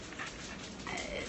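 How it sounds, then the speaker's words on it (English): Dogs give a quiet, brief whimper with high whining tones, heard faintly and up close with no talking. "That's my dog. Or dogs."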